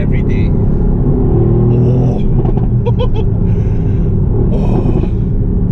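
A Mercedes-AMG GT C engine revs with a loud, deep, continuous rumble that swells and holds close by, while people breathe and talk over it.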